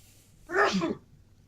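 A single sharp sneeze from a man, close and loud, breaking a quiet room for about half a second before fading out.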